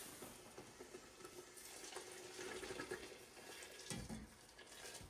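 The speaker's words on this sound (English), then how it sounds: "Boiling water going in." Boiling water poured into a pot of Cajun turtle stew, a steady close splashing gush of liquid with a few clinks and stirring knocks against the pot, no voices.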